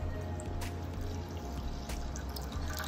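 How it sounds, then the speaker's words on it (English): Milk pours steadily into a pot for a cheese sauce, a soft continuous liquid stream with faint drips that stays close and alone throughout. "pour some milk down here."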